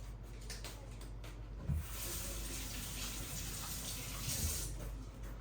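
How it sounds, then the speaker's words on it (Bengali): Tap water runs steadily into a sink while hands are washed with soap in a home kitchen, a soft, even gush heard close up, with a couple of faint thumps and no talking. "এখন আমি আমার হাতটা ধুয়ে নেই, আমার হাতটাও সাবান দিয়ে ধোয়া।"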